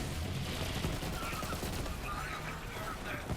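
A Malone weapon fires in rapid bursts in Borderlands 3, giving dense, continuous rattling gunfire that fills the whole stretch at a steady, loud level with no pauses.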